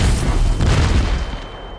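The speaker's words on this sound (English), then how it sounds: "Then there was a massive explosion, and everything went dark." A massive explosion from a video game, a loud, deep roaring boom that fills the whole moment and slowly rumbles down toward the end.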